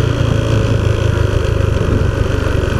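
A motorcycle engine runs steadily at low revs while the rider looks for a spot to park near the beaches of El Rodadero and Bello Horizonte, Colombia, making a continuous close rumble with no talk.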